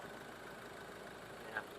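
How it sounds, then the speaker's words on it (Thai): A stock, unmodified 2.2-litre engine idling in a 2017 Ford Ranger Double Cab FX4 pickup, a faint, steady low rumble with an even texture and one small blip near the end. "ลองฟังเสียงเครื่องยนต์ดูนะ"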